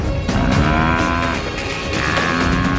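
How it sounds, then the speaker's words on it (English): An African buffalo on the savanna gives a loud, deep, drawn-out lowing call, near and continuous, with overlapping bellowing moans and no voices. "Buffalo is strong and can wheel around, slashing with his horns, lashing out with his hooves."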